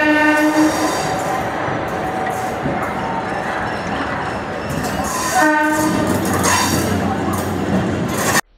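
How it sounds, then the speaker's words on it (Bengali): A local train pulls out of Kharagpur station, its horn sounding in sustained blasts at the start and again later over steady rumbling wagons and rail noise, loud and close throughout. "ওখানে যে আমাদের ট্রেন ছেড়ে দিল খড়গপুর স্টেশন থেকে ক্ষীরের উদ্দেশ্যে"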